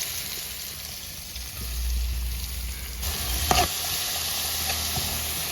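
Shallots, garlic and onions sizzle steadily in a hot pan for kappa (tapioca) biriyani, with a brief scrape of stirring partway through; the frying hiss is close and continuous with no voices.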